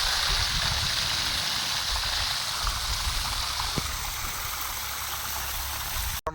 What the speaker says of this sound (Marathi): इतक्या लांबपर्यंत पाणी मारतो